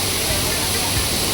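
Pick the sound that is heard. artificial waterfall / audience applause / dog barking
artificial waterfall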